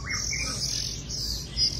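An Oriental magpie-robin gives bright, high chirps in a brief close run over a low background hum.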